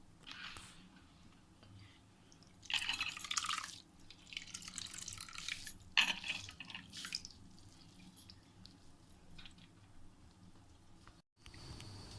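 Potatoes are washed by hand in a bowl of water, giving quiet intermittent splashes and drips with soft sloshing bursts over a low steady background.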